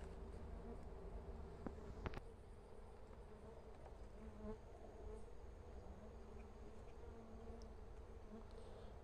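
Jatai stingless bees buzz steadily during a hive transfer from a bamboo nest trap, a soft continuous drone from many insects close by, with a few brief handling knocks and no talk.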